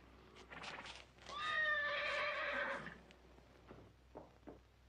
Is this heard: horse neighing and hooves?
yes